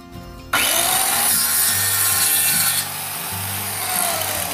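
An Xcort 1450W circular saw with a 185 mm blade cuts through plywood, bursting into a loud, continuous, close-up grinding whine after a short quiet start and running steadily to the end, with no talking.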